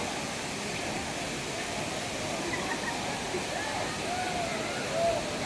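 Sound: Jalagamparai waterfall flowing

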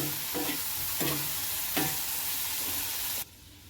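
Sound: stirring clam dish with kokum in a pan

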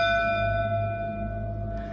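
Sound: old gaol bell ringing

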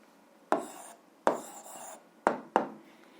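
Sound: writing the answer by hand

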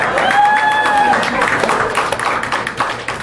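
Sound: audience applause

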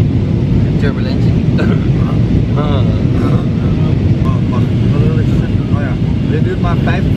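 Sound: airplane cabin noise during flight

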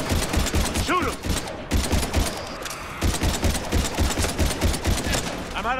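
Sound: gunfire in the video game Mass Effect 3

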